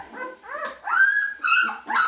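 A puppy or dog gives a run of close, loud barks and yips mixed with growls during a nail-trimming session indoors, with no talk over it.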